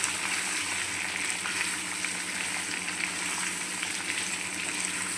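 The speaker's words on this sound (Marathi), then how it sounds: "इकडे बटाटे जे बॉईल करून घेतले होते ते पण मी तेलामध्ये चांगले परतवून घेणार आहे." Boiled potatoes frying in oil over a low gas flame for aloo matar curry, giving a steady, continuous close sizzle with no talking.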